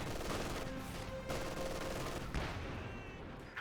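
Bursts of machine gun fire from an MG42 and other guns in the video game Company of Heroes 2, rapid overlapping rattles with a sharp blast near the middle, fairly faint and continuous.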